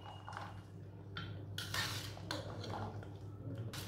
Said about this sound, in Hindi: सब चीज़ों को ना अच्छी तरह मिक्स कर लेंगे